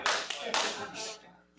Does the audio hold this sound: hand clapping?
yes